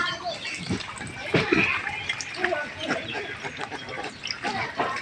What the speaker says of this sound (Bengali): হাঁস পানির মধ্যে নেমে গোসল করতেছে